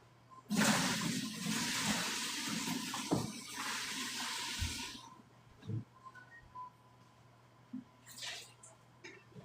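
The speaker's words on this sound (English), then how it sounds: "I have my colander down in the sink. We're going to pour this out" Cooked long beans and their water poured from a pot into a colander in a kitchen sink, a loud rushing splash for several seconds that tapers off, followed by a few light clatters.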